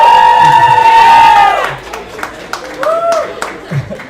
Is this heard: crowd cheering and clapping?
yes